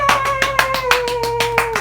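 Steady, evenly spaced hand claps, about a dozen in quick rhythm, at a library storytime, with a sustained tone or voice running underneath.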